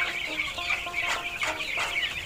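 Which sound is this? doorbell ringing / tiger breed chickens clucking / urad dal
tiger breed chickens clucking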